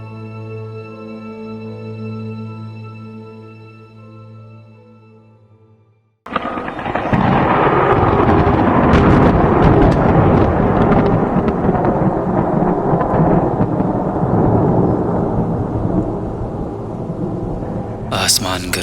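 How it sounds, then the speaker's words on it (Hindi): Thunder rumbling across the sky during a storm, a loud, broad, sustained roar with rain-like hiss that starts abruptly after a soft tonal musical passage and continues steadily to the end. "आसमान गरज रहा था"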